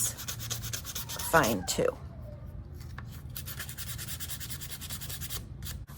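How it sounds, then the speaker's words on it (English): Sandpaper scraping around the drilled hole of a small wooden block for a children's necklace craft, a brief burst of rough rubbing with a voice speaking briefly over it. "If it's easier for you to put it down on the table and sand it that way"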